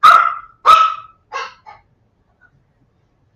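A dog inside a house barks loudly twice up close, then gives two softer, shorter barks, followed by quiet.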